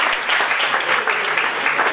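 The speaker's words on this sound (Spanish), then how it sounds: "Recibamos con fortísimo aplauso al doctor Juan Esteban Aguirre" An audience at an international congress on human rights and constitutional law applauds to welcome a speaker to the stage: loud, dense, continuous clapping from many hands that fills the room for two seconds.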